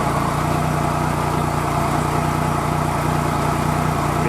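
A 2016 Triumph Trophy SE motorcycle engine idles, a steady, even mechanical hum held close and constant throughout.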